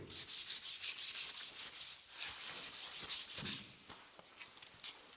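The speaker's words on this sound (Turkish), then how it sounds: "elde kalan kıymıklar için yine son bir ince zımpara istiyor" Hand sanding a wooden handle with fine sandpaper, brisk rhythmic scratchy strokes back and forth, close up, slowing to a few lighter rubs at the end.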